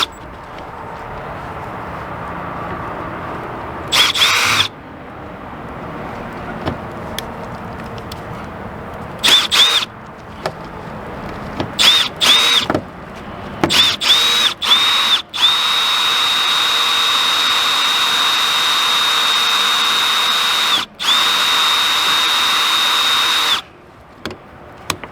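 A power drill drives self-tapping screws into an RV, starting with short whirring bursts and then running in long steady high-pitched whines with brief pauses, close and loud.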